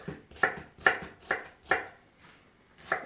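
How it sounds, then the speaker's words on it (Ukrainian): Cabbage trimmings being chopped with a knife on a board: five or six sharp, close cuts in an uneven rhythm, with a short pause before the last one. "Ці всі краєчки я переріжу ножем."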